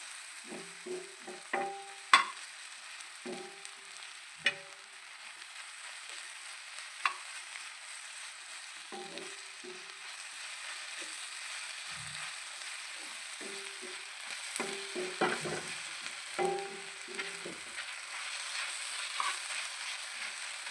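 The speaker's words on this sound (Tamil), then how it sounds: "இது எப்படி பண்ணுறாங்கன்னு பாருங்கள் நல்லா வதக்கிக்கிறாங்க" Kothu parotta stir-fried with onions on a hotel-style griddle: steady sizzling with repeated rhythmic metal clanks and scrapes of the spatula chopping and tossing, close and fairly loud, no talking.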